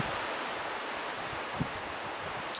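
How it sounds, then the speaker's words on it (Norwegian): Steady wind rushing over a hard-snow mountain plateau on a solo ski tour, a continuous broadband roar buffeting the microphone, with a couple of tiny bumps. "hadde jeg visst at denne vinden kom"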